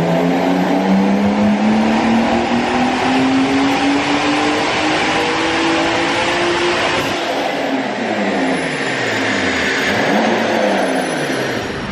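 A car engine on a dyno roars loudly at high revs, pitch climbing, then drops and surges repeatedly in rising and falling sweeps, with no talking.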